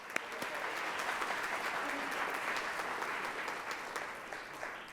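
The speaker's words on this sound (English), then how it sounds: "Let's have a round of applause for all of them." Audience applause at a civic club forum, steady clapping from a crowd filling the room evenly for five seconds at moderate distance.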